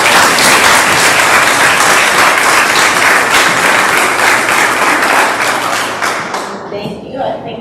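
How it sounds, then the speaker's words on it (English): An audience at a community meeting applauds loudly and steadily, dense clapping filling the room for several seconds before it begins to thin out at the end. "All right, so we can have a round of applause."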